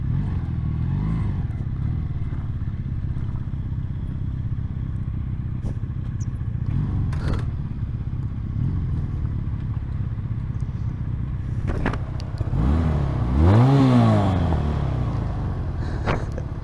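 A small motorcycle engine idling with a rough cylinder beat on a rural road, then revving sharply in rising and falling bursts near the end, close and fairly loud with no talk over it.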